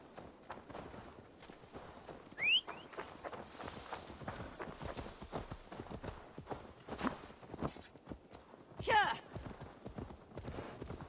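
Horse hooves walking in Assassin's Creed Valhalla: a steady, faint clip-clop of footfalls heard together with game effects and talk, with two brief bright accents along the way.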